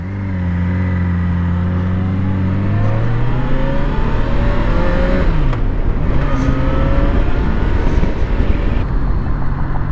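A Yamaha FZ6R 600cc motorcycle pulls hard through the gears, its engine note rising in pitch, dropping at each shift and climbing again, loud and close with no talk.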